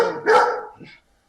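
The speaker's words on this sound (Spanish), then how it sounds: "Mi perro está latiendo." A dog gives a burst of loud, close barks, one sharp bark and then a trailing yelp, before the sound cuts to silence.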